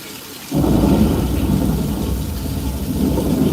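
After a brief quiet moment, a loud roar of heavy rain and rumbling thunder from a simulated theme-park storm effect bursts in and continues steadily, close and full.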